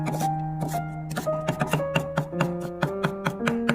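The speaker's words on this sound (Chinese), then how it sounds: "再切成蒜末" A knife minces three garlic cloves on a cutting board with a run of quick, even taps close by, under soft background music.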